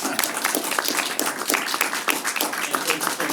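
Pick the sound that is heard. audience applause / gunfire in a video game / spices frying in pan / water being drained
audience applause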